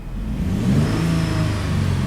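A 2008 Jeep Grand Cherokee engine revving up and holding high revs, a loud, close, continuous roar with no voices over it.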